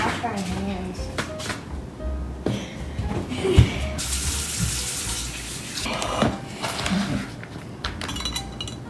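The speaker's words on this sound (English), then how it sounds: "I think we forgot to wash our hands." Water runs from a kitchen tap while kids wash their hands during a cooking session, a steady close splash with clinks of glass and dishes and children's voices over it.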